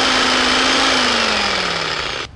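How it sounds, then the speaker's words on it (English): A cordless Sawzall reciprocating saw cuts with a loud, steady, buzzing rasp and a faint droning tone beneath it, running almost continuously before stopping abruptly near the end. "what they're using is a saw, what they call a sawzall, but it's a cordless sawzall"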